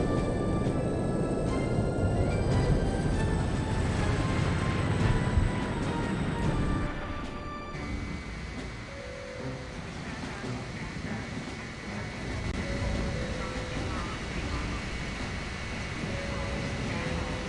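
Steady aircraft cabin engine drone inside a plane in the video game No One Lives Forever, a loud broadband rumble with tonal hum that drops somewhat in level midway and continues under game music and effects.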